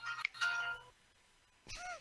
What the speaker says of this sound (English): Lauren has a phone call.